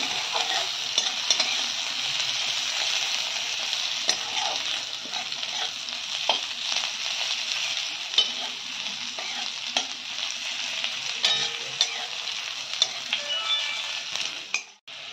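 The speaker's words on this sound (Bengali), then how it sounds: "একটু লাল লাল মতন ভাজাটা হবে" Half a large onion, finely chopped, fries in hot oil for moong dal with a fish head, giving a steady close sizzle broken by the scrape and clink of a spoon stirring the pan, with no talking.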